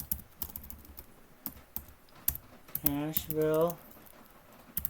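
Fingers tap on a computer keyboard in scattered, light clicking keystrokes, recorded close and quiet, with a brief voiced sound rising midway through.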